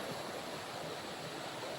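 A river rushes in a steady, continuous flow of broadband noise in an outdoor forest setting, with no voices over it.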